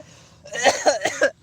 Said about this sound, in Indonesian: batuk.